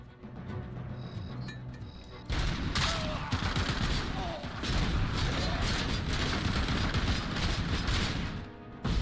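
Machine gun fire in Robocop: Rogue City, dense rapid bursts of loud gunshots with booming impacts that follow a quieter mechanical start, sustained and near throughout.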